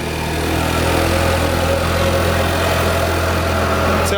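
A flooded Ford Focus RS engine idling after starting, a steady, close mid-pitched hum with constant vibration and no talk over it.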